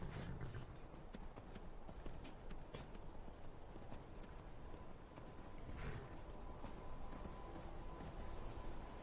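Horse hooves clip-clop steadily at a walking pace in the video game Skyrim, a soft, continuous rhythm of hoofbeats heard alone with no talking.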